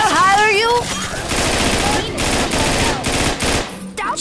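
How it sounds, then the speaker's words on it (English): Bursts of automatic gunfire in Scarface: The World Is Yours, loud repeated volleys with sharp shot transients, mixed with shouted voices and a whistling effect at the start. "I'm being shot at."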